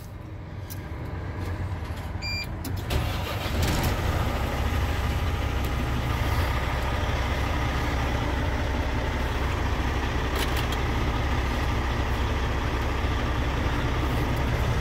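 A heavy diesel engine of a 2011 Volvo VNL 780 semi truck with 851,000 miles idles steadily with a deep, continuous low rumble, close and loud, with a brief clatter near the start.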